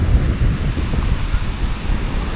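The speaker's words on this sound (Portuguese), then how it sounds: "estamos agora contra o vento" Strong wind buffets the microphone at a beach, a loud continuous rumbling roar with surf washing underneath, no talking.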